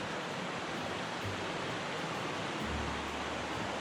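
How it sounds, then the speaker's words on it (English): Trout Creek in Washington running steadily on a morning, a continuous broadband rush of flowing water holding an even level throughout, with no voices. "You see that Trout Creek is running very nicely this morning."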